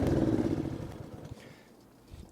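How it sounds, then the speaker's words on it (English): A compact Scheppach MR196 ride-on lawnmower engine runs loud and close at first, then its rumble fades to a quieter, uneven idle. "If I get out of the seat, the engine will keep running"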